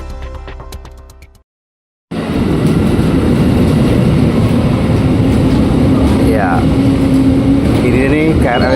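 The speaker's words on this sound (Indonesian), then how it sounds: "Ini nih KRL-nya datang jam" A KRL commuter train pulls into Cikarang station, Bekasi, rumbling in loud and close after a brief silence, with a sustained low drone, rising whine and squealing brake tones under the station's ambience.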